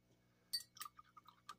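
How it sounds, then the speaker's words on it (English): A spoon stirring heavy cream into bourbon-barrel-aged coffee in a cup, a few light clinks and taps against the ceramic, close and quiet. "All right, give it a little stir."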